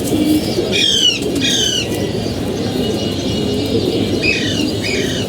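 Racing pigeons flutter and flap their wings in short bursts while soft coos and chirps sound over a steady rushing background.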